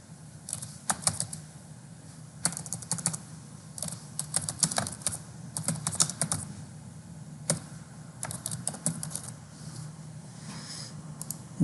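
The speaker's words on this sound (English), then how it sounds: "you just double click on it and then type in the name of the company" Fingers type on a computer keyboard in quick bursts of close, crisp key clicks separated by short pauses, heard alone against a faint room hum.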